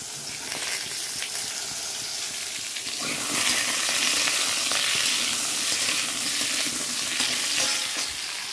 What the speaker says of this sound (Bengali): আলু দিয়ে দিয়েছি, আলুটা ভাজা হচ্ছে